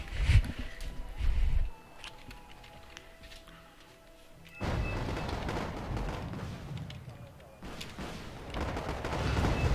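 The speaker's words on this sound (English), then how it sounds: "Artillery being dropped down." Artillery barrages in the Wargame AirLand Battle video game come as bursts of heavy booming fire, loud clusters at the start and again midway through, with rumbling fusillades continuing under the game's ambient noise.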